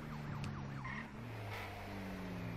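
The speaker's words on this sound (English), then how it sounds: "Did I just hear a cop car?" A police car siren wails in the open-world game GTA 5, faint and somewhat distant, its rising and falling tones sweeping over low traffic rumble.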